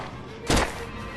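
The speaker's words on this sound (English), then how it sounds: "I love popping shots off with the pistol just to hear that" A single pistol shot in the zombie video game ZombiU: one sharp, close, punchy crack with a short tail, heard over quiet background noise.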